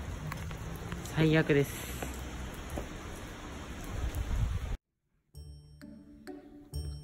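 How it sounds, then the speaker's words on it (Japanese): Rain falls steadily outdoors as a dense, hissing patter, with a short spoken remark over it before the sound cuts out briefly and returns quieter alongside other noises. "雨です。"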